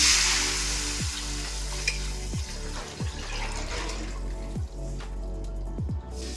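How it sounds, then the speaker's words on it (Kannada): Steady sizzling and frying hiss from a tempering of chillies and spices in hot oil, with several soft knocks at intervals like a spoon tapping the pan. "ಒಗ್ಗರಣೆಗೆ ಅವು ಮೆಣಸಿನ್ಕಾಯಿ ಎಲ್ಲ ಫ್ರೈ ಆಗಾದ್ಮೇಲೆ"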